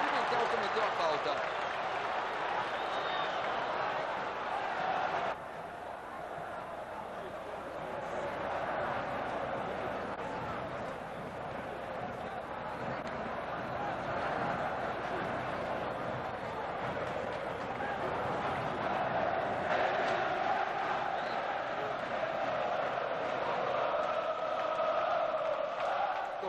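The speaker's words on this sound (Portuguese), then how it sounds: "Torcida do Vasco incentiva" Vasco da Gama supporters chant and cheer across a football stadium during a match against Flamengo, a steady distant roar of the crowd that swells and eases over time without stopping.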